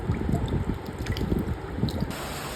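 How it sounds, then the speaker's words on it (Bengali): Heavy rain pours in a garden, dense pattering and splashing water with trickling drips that hold steady and close throughout. "অনেক অনেক বৃষ্টি হচ্ছে।"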